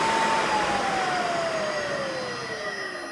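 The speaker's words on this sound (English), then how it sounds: "Very nice, quiet motor." An electric motor running on a custom single-phase VFD at full speed, about 3531 RPM, giving a steady broadband whir with a clear tonal whine that slowly glides lower, close and fairly loud.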